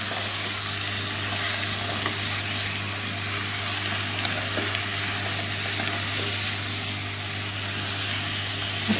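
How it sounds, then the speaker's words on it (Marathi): Chicken pieces sautéing with curry leaves in a pan give a loud, steady, close sizzle that runs unbroken from start to finish, with no talking. "करी लिव्स प्रत्येक चिकनच्या पीसला हा स्वाद लागला पाहिजे असं आपल्याला छान परतून खूप वेळ घ्यायचं।"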